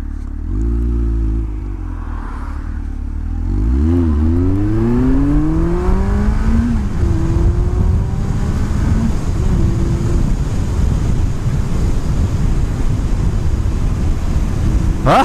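A 750 Honda motorcycle accelerates hard, its engine note climbing in rising sweeps through several gear changes, loud and close, ending in a sustained roar.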